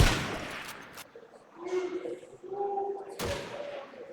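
Gunfire in the PC shooter Call of Duty 2 during a competitive LAN grand final match, with broadband shot bursts at the start and a sharp blast near the end, separated by quieter tonal game sounds.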